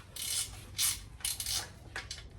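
Axle flange bolts on a Ford Escort Mk2 RS2000 being tightened with a ratchet, repeated bursts of fast clicking ratcheting, close and fairly quiet, no voices.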